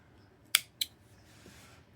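Two quick, crisp snips of scissors cutting yarn, close and clear, a fraction of a second apart in an otherwise quiet room.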